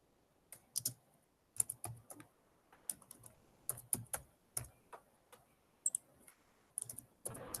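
Typing on a computer keyboard during an online project session, close and fairly quiet: irregular bursts of crisp key clicks with short pauses between them, in an otherwise quiet room with no talking.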